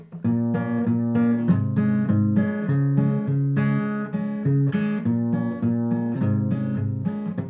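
Acoustic guitar fingerpicked chord pattern from a song, alternating a bass note with the second and third strings in a steady, even rhythm, close and clear with no voices.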